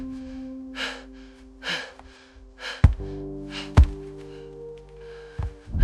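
Heavy, strained breaths in an AI-generated Attack on Titan scene come as several ragged gasps and exhales over a low sustained tone, broken by a few dull thuds.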